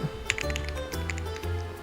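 Rapid keystrokes clatter on a computer keyboard during a Verse 8 web game, a dense, fast run of close taps with a low tonal game hum underneath.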